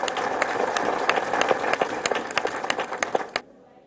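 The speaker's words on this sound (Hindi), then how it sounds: "इसलिए एक बार इन लोगों के लिए जोरदार तालियां बजनी चाहिए।" A crowd at an honouring ceremony claps enthusiastically in a dense, crackling burst of many hands that cuts off abruptly near the end, leaving near silence.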